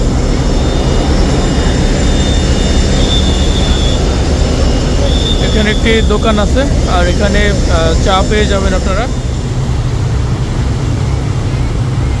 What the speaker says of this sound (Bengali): আর দূরে দেখতে পাচ্ছেন এটা হলো লঞ্চের ইঞ্জিন রুম